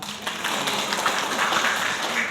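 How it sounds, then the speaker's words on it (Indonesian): Brief clapping from a workshop audience at a university campus session, a short burst of moderate applause from a small group in a room. "Tepuk tangan dulu dong"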